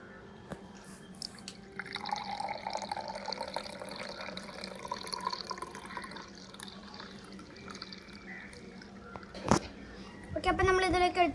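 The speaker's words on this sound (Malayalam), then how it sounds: "നമുക്ക് ഗ്ലാസ്സിലേക്ക് ഒഴിക്കാം." Fresh lemon juice is poured from a jar into a glass, a soft trickling pour with faint drips over low room noise, ending in a brighter, louder splashing burst near the end.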